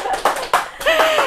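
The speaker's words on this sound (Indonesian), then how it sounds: "boleh tepuk tangan dulu" A few sharp hand claps in a small radio podcast studio at RRI Yogyakarta, close and brief, with voices speaking over them.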